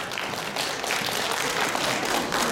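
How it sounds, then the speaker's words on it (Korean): An audience at a concert in the Nowon-gu Office auditorium in Seoul applauds loudly in a continuous, dense patter of many hands that fills the whole moment. "큰 박수 부탁드립니다."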